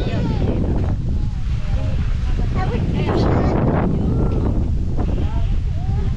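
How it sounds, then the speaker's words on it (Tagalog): Steady wind in Bicol buffeting the microphone throughout, a constant low rumble with faint voices in the background. "Hangin po guys."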